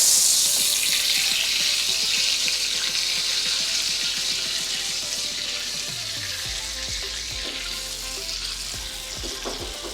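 A steak sizzles loudly in a hot skillet, a bright, dense hiss that slowly fades, with low knocks and clatter from the pan being handled toward the end.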